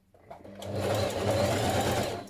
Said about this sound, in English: we're going to stitch down the side